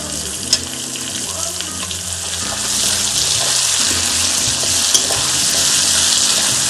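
Chopped tomatoes and garlic fry in a pan for mutton curry, a loud continuous sizzle that swells partway through, with faint scraping as the mix is stirred.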